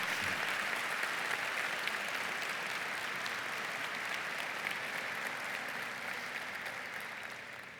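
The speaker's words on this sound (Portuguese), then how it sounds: "Você pode dar um aplauso para isso? Alguém tem que aplaudir." A church congregation gives a steady, moderately loud round of applause that holds evenly for several seconds and then begins to fade near the end.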